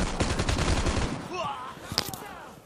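Rapid bursts of gunfire from the mobile shooter game COD Mobile, dense and loud in the first second or so, then thinning into a few scattered shots and game effects near the end.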